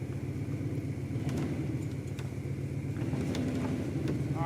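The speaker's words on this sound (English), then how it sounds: "Gonna pull on it with the truck now" Pickup truck engine running steadily at low revs while pulling an insulated shed on a farm, a constant mid-range rumble close by, with occasional clanks from the shed.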